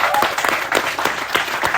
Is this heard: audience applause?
yes